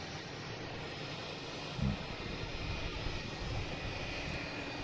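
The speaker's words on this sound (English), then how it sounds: "We got Air Canada heading to Toronto." A jet airliner near an airport passes with a broad, steady roar that holds at an even level throughout, heard from a distance with no speech over it.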